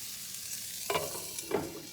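Salmon sears in a hot pan for a spicy honey glaze, a steady faint sizzle with a couple of brief louder bursts as the fillets are moved or stirred, heard alone with no talking.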